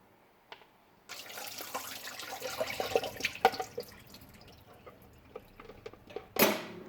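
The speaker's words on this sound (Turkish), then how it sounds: "Şimdi patateslerimizi süzüyoruz." Potatoes soaked in soda water being drained in a kitchen: faint splashing and trickling water with scattered drips and light clinks of a colander or dish, ending in a brief louder pour.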